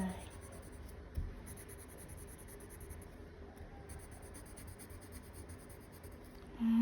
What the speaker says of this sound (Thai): เราก็ระบายสีเขียวเข้มลงไป